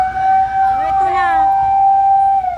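Fire truck siren arriving at a campus fire, a loud, close, wailing tone that holds steady and sweeps slightly, with excited voices talking over it.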